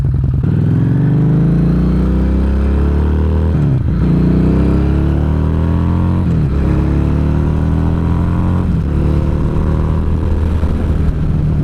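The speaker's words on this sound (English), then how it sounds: "It's a 2016 Harley Street 750." A 2016 Harley-Davidson Street 750 motorcycle engine revs repeatedly up and down, loud and close, with several rising throttle sweeps over a deep steady idle rumble and no talking.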